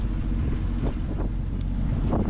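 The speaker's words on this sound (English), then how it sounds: "Typical wind's got up now. We've got 18 knots of wind on the nose." Strong wind gusting around 18 to 19 knots over a boat at sea off the Welsh coast near Caernarfon, a loud continuous roar buffeting the microphone with surging gusts and no voices.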